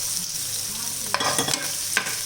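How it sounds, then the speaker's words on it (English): Chopped onions sautéing in hot oil in a pan, a steady close sizzle broken by a few brief scraping stirs of a spoon. "Now add the onions, chopped onions, saute it"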